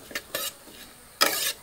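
Urad dal and coriander seeds are stirred in a pan, brief scraping strokes and a longer rasping stir near the end with a faint sizzle between.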